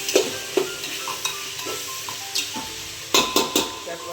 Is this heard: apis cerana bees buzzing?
no